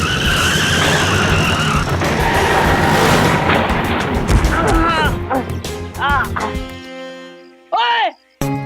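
A road vehicle skids and smashes into a scooter in a loud, dense burst of tyre screech and impact noise, followed by ringing, clattering debris as the sound thins out; voices are heard through it.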